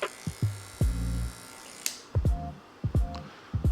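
Barber hair clippers cut coarse hair in short, repeated bursts of buzzing, each stroke starting and stopping sharply, close and fairly loud, with no talk.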